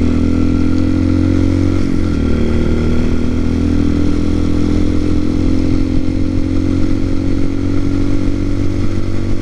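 A TaoTao TBR7 motorcycle fitted with a 17T front sprocket rides steadily, its engine droning loud and close with a brief shift in pitch near two seconds, then holding a constant humming note with no talking.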